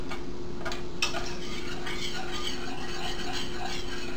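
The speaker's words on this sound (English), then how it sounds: "You want to continue whisking so that all the flour gets incorporated into the butter." Whisk stirring flour into melted butter in a pan: a soft, continuous scraping and ticking with a few sharper taps near the start, steady and close, no talk.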